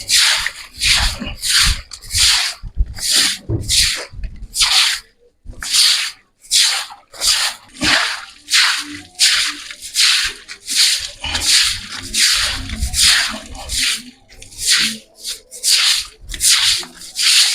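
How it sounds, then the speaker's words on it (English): Broom pushing standing water across the floor of a small room in a slum dwelling, a steady run of rhythmic wet swishing strokes, close and fairly loud, with brief pauses between sweeps. "I just have to sweep this water now, and it flows."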